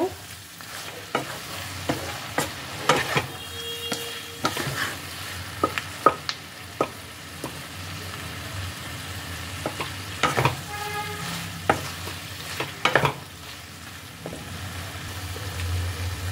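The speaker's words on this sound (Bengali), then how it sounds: "এই সমস্ত কিছু দিয়ে এটাকে আবারও বেশ ভালোভাবে একটু মিশিয়ে নেব" A spatula stirring an egg and brinjal mixture in a frying pan, irregular scrapes and clacks against the pan over a low sizzle, close and fairly quiet, with no voices.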